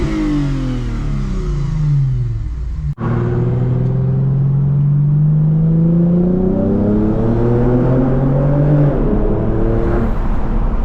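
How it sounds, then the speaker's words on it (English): A Lexus RC350 revs hard at a car meet, loud and close, its engine note climbing in repeated sweeping rises over about ten seconds after a brief cut, with no talk over it. "I'ma rev my shit."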